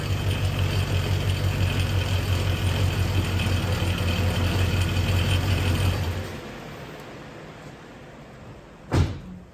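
A 1989 Trans Am 5.7 TPI engine runs with a loud mechanical whirring and a squealing drive belt, cutting off as it shuts down, followed by a single sharp knock.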